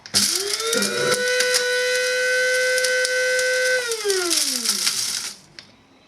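An electric spice grinder whirs briefly through whole spices, a loud rising motor whine that holds steady with rattling grit, then winds down and stops, close by and alone.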